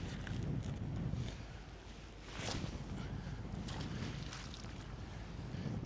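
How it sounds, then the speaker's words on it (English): Wind blows steadily outdoors by open water during horizontal net tow sampling, a faint broadband rush with gusty swells and buffeting against the microphone, no clear talk. "As you can see, it's a little windy behind me"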